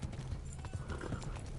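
Horse galloping in Kingdom Come: Deliverance, a steady drumming of hoofbeats close and continuous, with game ambience behind and no talk.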